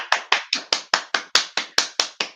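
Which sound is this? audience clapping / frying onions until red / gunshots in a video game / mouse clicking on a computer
audience clapping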